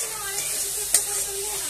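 Spice paste fries in a pan for a Bengali fish curry with potol and raw banana, a soft continuous sizzle and hiss with one sharp scrape of stirring midway.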